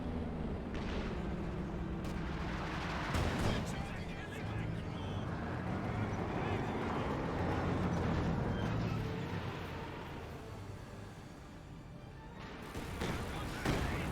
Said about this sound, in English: Panzerwerfer barrage, not Panzerwerfer, Katusha barrage eyeing for the MG42.